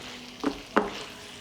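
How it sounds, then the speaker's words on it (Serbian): Chicken liver fries gently at low heat in a pan, a soft steady sizzle broken by two brief, sharp stirring scrapes close by. "Džigericu pržimo na nižoj temperaturi jer hoćemo da ostane mekana, a ne prepečena."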